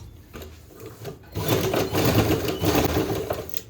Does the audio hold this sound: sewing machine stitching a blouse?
yes